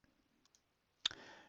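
A single soft mouse click on a software button, preceded by a few tiny faint ticks in near silence, close and quiet.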